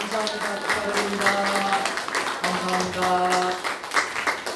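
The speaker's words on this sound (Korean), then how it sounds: "인사할 때 박수로 축하합니다" A church congregation claps during a Sunday service greeting, rhythmic clapping that rises in two waves with sustained musical tones underneath, some voices mixed in.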